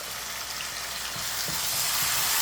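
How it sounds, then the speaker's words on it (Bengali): Ginger-garlic paste frying with bay leaf, cinnamon, cloves and cardamom in a pan for broiler chicken bhuna, a steady close sizzle that swells slightly louder toward the end, with faint scraping from stirring. "আমি এখন এখানে দিয়ে দিব আদা রসুনের পেস্ট"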